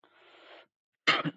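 A soft breathy exhale followed after a pause by a single sharp, throaty cough burst, close and brief.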